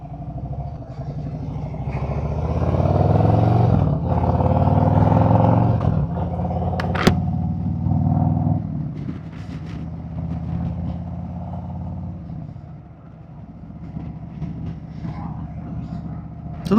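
A motorcycle pulling away on the road, picked up by a helmet-mounted mic: a loud, steady engine drone rises and holds with wind rush, then eases back toward the end.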